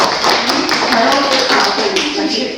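Children and adults at a spring poetry recitation contest clap for a prize winner, a dense, steady patter of applause filling the whole stretch, with voices mixed in.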